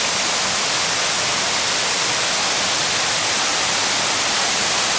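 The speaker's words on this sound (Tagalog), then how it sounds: "Ang ganda ng falls." Waterfall at Bato Resort, a dense and constant rushing roar of falling water that stays loud and unchanging from start to finish, with no voices.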